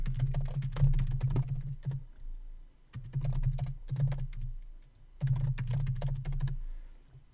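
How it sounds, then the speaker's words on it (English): Fast typing on a computer keyboard comes in three clustered bursts of close, clicky keystrokes separated by short pauses, with no voices. "you type in whatever you want to talk about"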